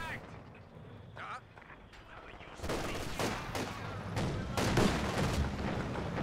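Heavy mortar firing and battlefield explosions in Company of Heroes 2, loud repeated booms and gunfire crackling over a dense wartime mix while a commentator talks.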